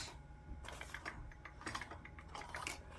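Sewing machine stitching fabric, giving a quiet, rapid mechanical clatter in short irregular bursts.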